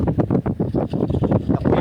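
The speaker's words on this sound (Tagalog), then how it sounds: "Lakas ng hangin ngayon mga kasama." Strong wind at sea buffets the microphone while people fish from a boat, producing loud, choppy gusting rumble in quick repeated bursts.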